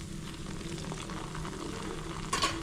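Sweet appam batter frying in oil in a small kadai, a steady soft sizzle and bubbling close by, with a brief louder crackle near the end.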